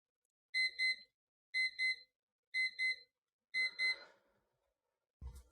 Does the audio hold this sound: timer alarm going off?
yes